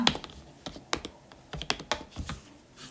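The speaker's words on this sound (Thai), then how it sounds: "แล้วเรากดสติกเกอร์ พิมพ์คำว่า orange นะคะ" A computer keyboard being typed on, a short word entered in a few irregular, close, crisp keystrokes with brief pauses between them.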